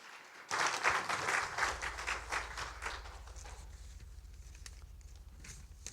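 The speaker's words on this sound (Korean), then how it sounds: "다 같이 박수로 환영해 주시면 감사드리겠습니다." A church congregation breaks into steady applause welcoming a missionary, starting abruptly and fading to lighter scattered clapping over a low hum.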